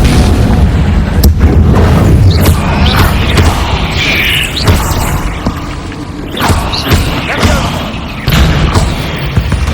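Loud, punchy spell explosions from Confringo casts in Hogwarts Legacy, several booming blasts with crashing debris in quick succession, alone and close.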